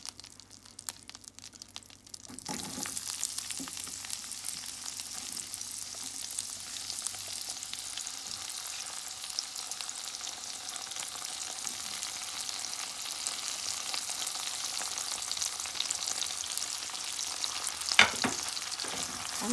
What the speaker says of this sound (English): I'm gonna cook this onion about 2 minutes or so and let it infuse well into the butter.